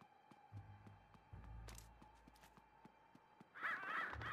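Crows caw in Luigi's Mansion 3, a short burst of harsh calls near the end over a dim, humming game ambience with faint ticking and low thuds.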